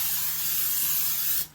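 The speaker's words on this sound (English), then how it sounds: "just spray a little bit on so that way it's coated" Cooking oil hisses out of a spray can in one continuous close burst, steady and bright, before cutting off sharply, with no talk.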